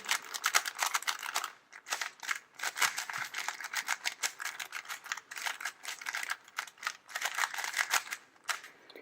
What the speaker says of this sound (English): Let's scramble the cube.